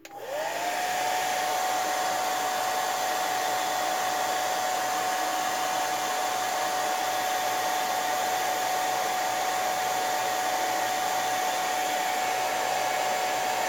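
A blow dryer is used to dry white paint on a custom Hot Wheels car, giving a loud, close, unbroken whine and airy roar that lasts throughout with no talk.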